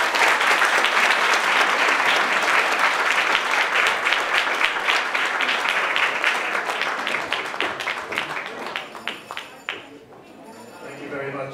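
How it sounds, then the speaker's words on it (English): Sustained audience applause for Ambassador Enrique Manalo at a London concert, loud dense clapping from a large crowd that thins into scattered claps near the end. "let's give a big round of applause to His Excellency Ambassador Enrique Manalo."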